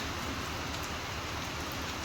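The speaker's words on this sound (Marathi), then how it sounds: "पाऊस काय थांबत नाही म्हणजे कोकणात खूप पाऊस पडतो आहे" Steady monsoon rain in Konkan, India, patters continuously on a surface, a soft, even hiss with no voices.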